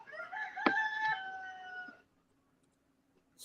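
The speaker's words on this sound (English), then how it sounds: "It's time to get up. You hear the rooster crowing." A rooster crows once, loud and close, its long call lasting about two seconds before the air falls quiet.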